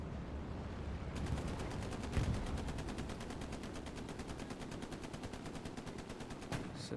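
Gunfire in a World War II video game battle at Carentan: rapid, evenly spaced machine-gun bursts rattle steadily for several seconds over a dull rumbling background, with a heavier thump early on and no voices.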